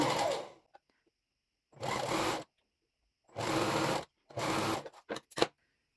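A straight-stitch sewing machine runs along the back seam of a racerback bra in four loud, close bursts of rapid mechanical whirring separated by silent pauses, then a few quick clatters at the end.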